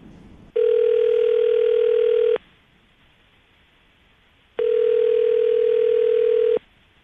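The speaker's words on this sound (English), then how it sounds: "we're going to call him right now, see if we can get him on the phone" Telephone ringback tone on an outgoing call, two long steady tone bursts separated by a pause, clear and alone with no talking.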